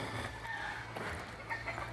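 Jungle fowl cluck and call in a noisy outdoor setting near the Quezon, Laguna and Rizal boundary in the Philippines, several birds at a moderate distance against a constant background hum.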